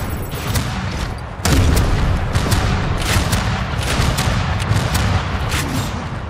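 Grenade blasts and gunfire in the futuristic shooter Tribes 3: Rivals, a dense run of loud booms and sharp cracks crowding together, with a heavy surge about a third of the way in and steady combat noise throughout.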